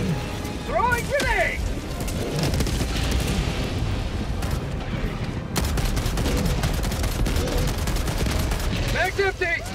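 In Helldivers 2, rapid gunfire crackles steadily in a dense, loud battle while a grenade blast lands among the shots and shouted voices.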